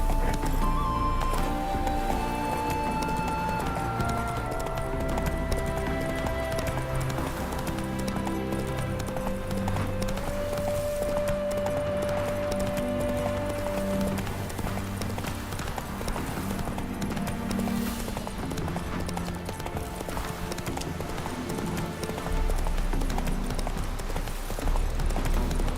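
Horse galloping in The Witcher 3 game, a steady run of clip-clop hoofbeats over layered background music, continuous and fairly loud throughout.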